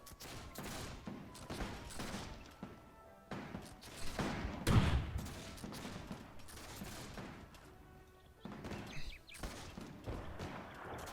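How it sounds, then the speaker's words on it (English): Cannons fire repeatedly in the Between Empires video game battle, with heavy booming volleys and scattered gunfire overlapping in a steady, dense barrage that peaks loudly midway. "Our cannons still firing."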